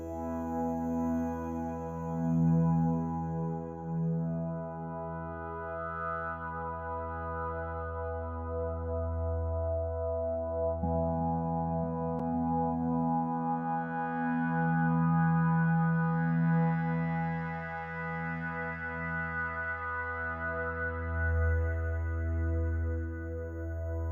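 A sustained synth pad made in Massive drones with slowly shifting, shimmering overtones and gentle cross modulation, no voices, evolving subtly throughout.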